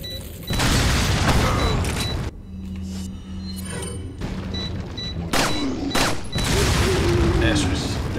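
A heavy booming explosion in Resident Evil 4 erupts amid mechanical clanks and thuds, followed by a sustained low hum and further loud impacts, with faint beeping tones scattered throughout.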